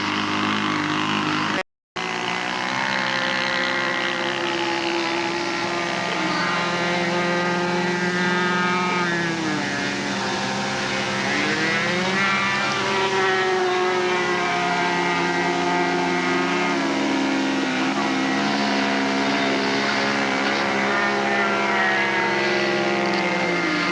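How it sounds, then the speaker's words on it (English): A model de Havilland airplane makes a slow flyby, its propeller engine droning steadily and loudly for the whole stretch, with the pitch shifting gently as it passes near, after a brief dropout at the start. "Here we come in for another slow flyby."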